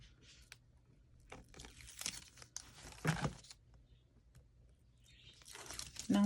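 Adhesive tape peeled off a surface during a craft session, giving a series of close, crackly ripping and crinkling bursts with brief pauses between them, with no talking.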